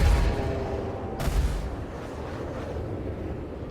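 Ship weapons fire during a Star Citizen space dogfight, heavy continuous booming blasts with a sharp burst about a second in, loud and close, layered over a dense rumbling roar.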